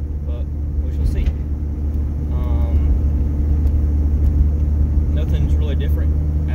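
A Mazda RX-7 fitted with Weber 48IDA carburetors drives along, its engine and intake giving a loud, steady low rumble heard from inside the car, with brief voices over it.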